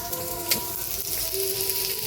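Onion and shrimp frying in oil, a steady close sizzle with faint crackles running throughout, no voices.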